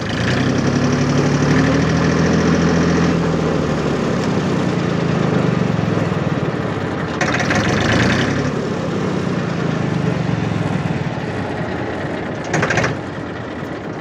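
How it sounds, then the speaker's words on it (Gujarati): A Massey Ferguson 1035 DI tractor diesel engine runs loud and close, chugging steadily with a rough, knocking rumble that rises and falls slightly, plus a few brief metallic rattles. "એન્જિન રાઉસ કરવાનું બાકી છે રાઉસ થાય છે"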